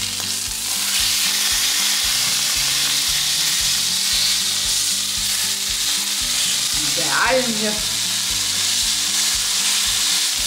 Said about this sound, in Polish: Obracamy mięso na drugą stronę.